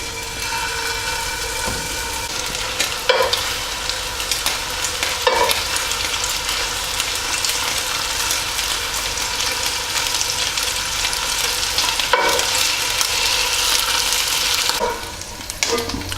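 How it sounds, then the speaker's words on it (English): Meatballs fry in batches in hot olive oil in a pan, a loud, constant sizzle broken by a few sharp knocks and shuffles as they are turned. "So we just want to fry off these meatballs in batches."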